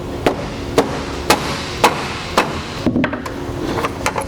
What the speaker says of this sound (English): bend up, creating further separation, and begin removing the aluminum